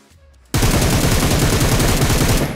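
Loud automatic gunfire in BGMI, a sudden burst of rapid, evenly spaced shots starting after a quiet moment and hammering on steadily to the end.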